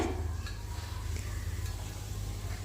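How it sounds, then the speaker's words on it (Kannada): Fenugreek leaves fry in oil for a methi pulao, giving a steady, close sizzle with soft stirring and faint utensil contact against the pan, and no voice over it. "ಎಣ್ಣೆಯಲ್ಲಿ ಮೆಂತ್ಯ ಸೊಪ್ಪನ್ನ ಒಂದು 5 ನಿಮಿಷ ಫ್ರೈ ಮಾಡ್ಕೊಳ್ಳೋದ್ರಿಂದ ಟೇಸ್ಟು ಚೆನ್ನಾಗಿರುತ್ತೆ."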